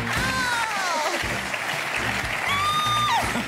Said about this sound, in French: on peut les applaudir très fort